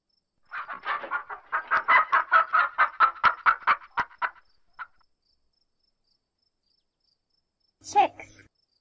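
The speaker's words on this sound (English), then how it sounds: "chicken" A domestic chicken clucks in a quick, steady run of short calls for about four seconds, close and clear. After a pause, one brief, higher call follows.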